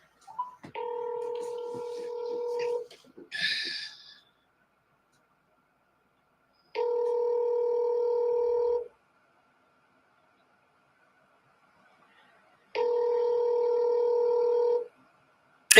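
A mobile phone sounds three long, steady dual-pitched tone bursts, each about two seconds, separated by silent gaps, with a brief rustle and click near the start.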